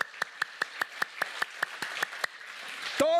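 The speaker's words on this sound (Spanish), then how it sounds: "Dele palmas al Señor" A church congregation claps in praise, a crisp, evenly spaced beat of about five claps per second that stops after a couple of seconds before a voice speaks.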